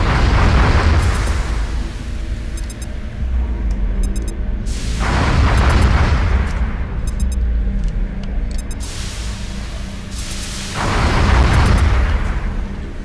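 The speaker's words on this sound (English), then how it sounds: "If I can throw a grenade." A grenade explosion in the video game XCOM: Enemy Within, heard as three loud, deep, rumbling blasts spaced several seconds apart, each followed by a lingering roar.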